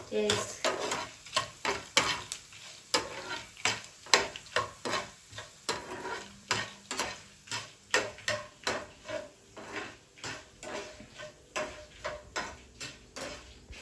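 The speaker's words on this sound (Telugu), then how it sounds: "ఇవన్నీ కొంచెం రెడ్గా అయ్యేంత వరకు వేయించుకోవాలి" Dry red chilies, coriander seeds and cumin dry-roasting in a pan, with a regular, rhythmic scrape and clatter of a spoon stirring over a soft, light sizzle, close and without talk.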